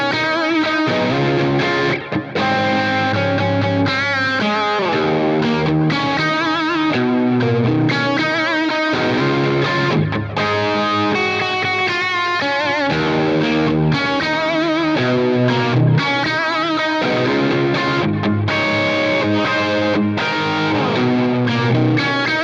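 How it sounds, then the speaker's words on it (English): An electric guitar plays through a Marshall Silver Jubilee amp, with a dense, continuous distorted tone carrying chords and riffs, loud and steady throughout with no talking. "So what you're about to hear is my real Marshall Silver Jubilee that sits right over there."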